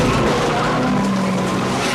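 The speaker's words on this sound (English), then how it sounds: "There's a great car chase after that." Tires skid and squeal during a film car chase in Point Break, a loud sustained screech over a steady engine roar, with no clear pauses.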